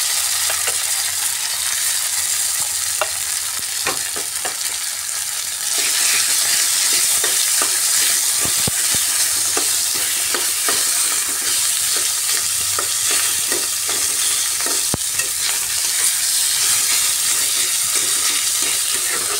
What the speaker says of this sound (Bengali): এই বিচিগুলোকে মশলা দিয়ে ভালো করে ভেজে নেব পুরের জন্য